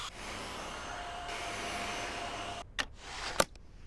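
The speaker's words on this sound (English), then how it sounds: "motor is encased inside the new DC49's compact ball to reduce noise levels" A Dyson DC49 compact cylinder vacuum cleaner runs with a steady, fairly quiet motor whir that cuts off partway through, followed by a couple of brief clicks or bumps.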